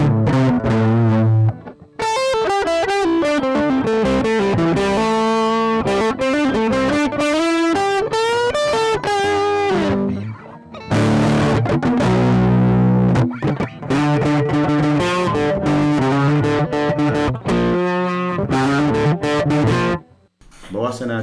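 Electric guitar played through a BOSS BD-2 Blues Driver overdrive pedal with no reverb or delay, loud sustained distorted chords and melodic runs filling most of the stretch, with brief gaps where the playing stops.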